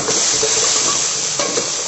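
Loud, steady sizzling of fish frying in hot oil in a pan, a dense crackling hiss close up with no talking.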